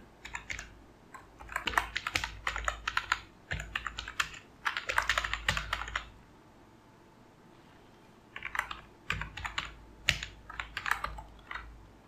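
Computer keyboard typing as HTML list items are entered, bursts of quick, close keystrokes separated by short pauses and a longer quiet gap midway, no voices.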